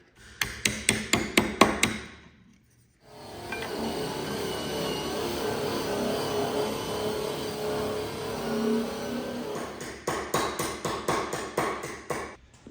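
Hammer blows shaping sheet-metal hood louver pieces for an RA29 Toyota Celica: a quick run of sharp, regular metallic strikes, a pause into steady workshop noise, then another rapid burst of close hammering.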